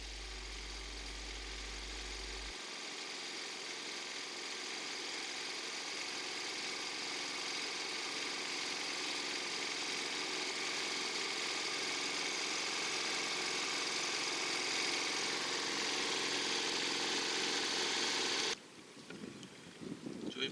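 A boat engine idles steadily on the Mekong River, a continuous mid-pitched drone and hum that holds for most of the stretch before abruptly cutting out near the end.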